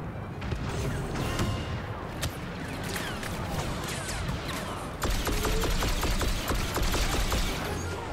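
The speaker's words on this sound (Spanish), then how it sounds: "sentí disparos por este lado" Dense, rapid bursts of gunfire crackle throughout in the video game Star Wars Battlefront 2, growing louder and sharper in the second half, with scattered mechanical clanks.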